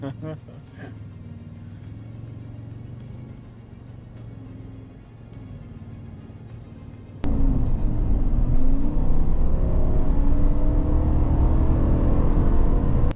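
SUVs including a 2024 Toyota Sequoia, a Land Rover Defender 130 and a GMC Yukon accelerating side by side in a speed test toward cones. Steady engine rumble under talk swells sharply louder halfway through as they launch.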